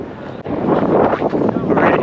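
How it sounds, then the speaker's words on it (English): Gusty wind on the Jeddah Corniche buffets the microphone in a steady roar, swelling and dipping over a couple of seconds. "It's getting really, really windy"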